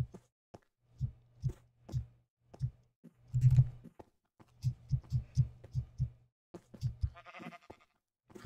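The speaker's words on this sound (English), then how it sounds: "There's a lot of sheep on this mountain." Sheep in Minecraft bleat repeatedly on a mountainside, short pulsed calls coming in quick bursts, some overlapping, fairly close and clear with no talking over them.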